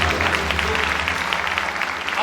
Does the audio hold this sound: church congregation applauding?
yes